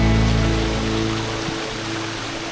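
Flowing stream being crossed on a trail to hidden waterfalls in Faraján, Spain, making a loud, steady broadband rush of water that fills the whole moment, close by and without voices.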